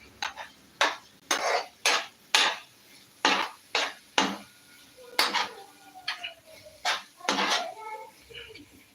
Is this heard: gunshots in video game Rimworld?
no